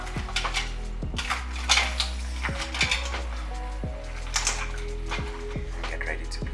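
Seafood being stirred into linguine in a pasta pot, with sharp metallic clinks and scrapes of a utensil against the pot in irregular bursts, under a low steady hum.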